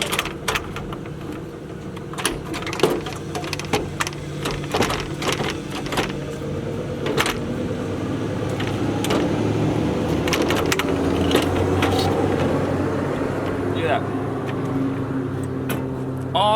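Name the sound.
pulling radiator out of a Mazda Miata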